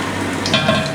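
Chips frying in hot oil give a steady close sizzle with soft crackling bubbles, loud and continuous throughout with no talk.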